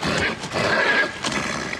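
A horse whinnies in a brief, loud, close neigh with a wavering pitch, heard on its own without speech.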